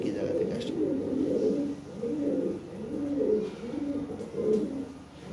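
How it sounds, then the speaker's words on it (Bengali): Lahori pigeons in a sale loft coo in soft, low, rolling calls that repeat steadily at close range while someone talks over them. "এই যে কটা কবুতর আছে ভাই"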